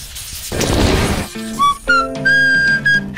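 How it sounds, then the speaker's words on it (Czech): A person whistles a tuneful melody with clear sustained notes and pitch glides after a burst of noisy clatter, loud and close, with no talk. "Miluji pískávat různé melodie."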